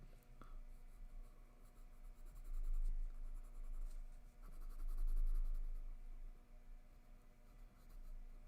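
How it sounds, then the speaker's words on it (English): A graphite pencil held far back at a low side angle scrapes across paper in long, soft shading strokes that swell and fade in a steady rhythm, close and fairly quiet. "I'm holding my pencil pretty far back. This lets me have a little bit of a side angle on the shading."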